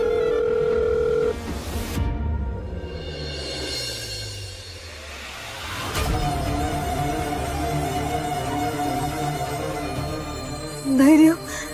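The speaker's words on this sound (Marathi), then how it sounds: "फोन उचला धैर्य, फोन उचला." A telephone rings on and on with no one answering, its steady electronic tone repeating over a low, muffled indoor background in a Marathi TV drama scene.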